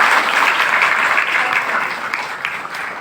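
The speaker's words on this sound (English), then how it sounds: "Keep the applause going." A school audience at an Independence Day gathering gives steady, dense applause that fills the whole stretch without a break, many hands clapping at once at close range.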